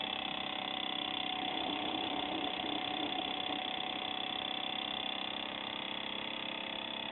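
A small electric motor driven by a coil and capacitor circuit under a transformer load hums steadily as it keeps building speed, a smooth continuous whir close by with no talking.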